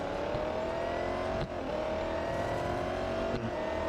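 Race car engine in the Real Racing 3 mobile game, revving hard and steady with a couple of brief dips as it shifts up, a continuous whining drone close up and without talk.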